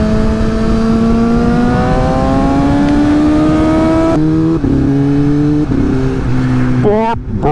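A Suzuki GSX-S750 engine drones steadily while riding, its pitch climbing slowly and then shifting through gear changes with a brief rev near the end, loud and close under wind noise.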